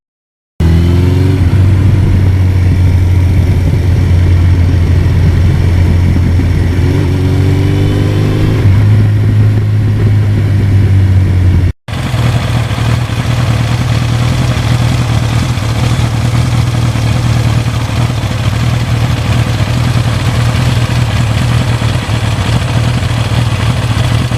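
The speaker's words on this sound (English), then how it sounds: "I even just love to listen to the idle of the bike." Steady, loud idle of a 1982 Suzuki GS1100E motorcycle with an original 80,000-mile engine, a deep even rumble with light mechanical clatter, broken by a short dropout midway and then resuming unchanged.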